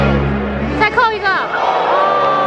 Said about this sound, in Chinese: 别人的扣篮就经不起欢呼，只有莫兰特的扣篮可以。